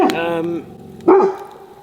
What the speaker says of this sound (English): Good, we've got a guard dog.